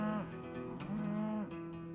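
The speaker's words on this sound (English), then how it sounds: "Laura finds a few cattle have come out of hiding to spend some time" Grazing cattle moo in the sun, two long, low, droning calls in quick succession, close and clear, with a soft outdoor background.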